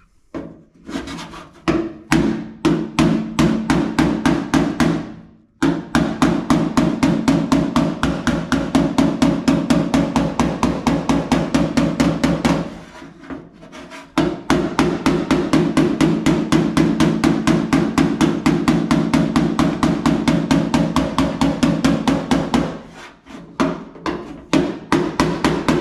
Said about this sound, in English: I'm pushing the metal back rather than sandwiching it between the hammer and the dolly